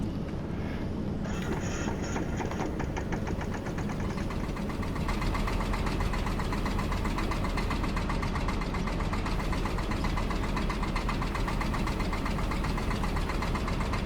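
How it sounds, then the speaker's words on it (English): A very small two-cylinder engine idles steadily nearby, a continuous low rumble with a rapid even pulse that settles in after a brief start, with no talking over it. "it's like a 2-cylinder engine. Very small."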